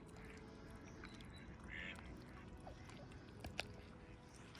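A mute swan on open water gives a single soft, nasal call partway through, faint and distant over a low, steady outdoor background.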